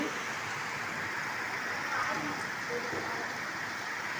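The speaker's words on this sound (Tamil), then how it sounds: "மழை சத்தம் பாருங்க, நல்லா கேட்குதா? செம்ம மழை பாருங்க." Heavy rain falls during a storm in Chennai as a steady, dense hiss that fills the whole stretch evenly, heard close and fairly loud with no voices over it.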